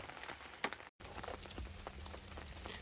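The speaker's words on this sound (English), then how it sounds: "it's still raining out here in the Ocala National Forest" Soft, steady rainfall patters outdoors in the Ocala National Forest with occasional heavier drips, fairly quiet and continuous.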